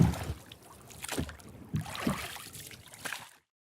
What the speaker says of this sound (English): rowboat